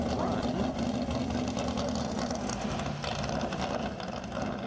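A 408 cubic inch small block Chevrolet race car engine rumbles steadily at a fairly constant pitch on a dry lake racecourse, a thick throaty drone heard from nearby with a voice talking faintly over it.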